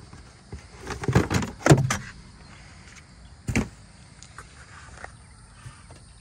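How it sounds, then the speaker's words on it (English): A plastic engine cover is pried off the B58 engine of a Toyota Supra A91 in a close, quiet cluster of clunks and snaps, followed by a single thud and faint handling noises, with no talking. "until we pop this cover off"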